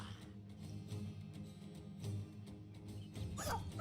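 A dog whimpering and yelping in the video game Battle Brothers: short, faint canine yips sit over a busy, low-pitched battle soundtrack, with a louder yelp near the end.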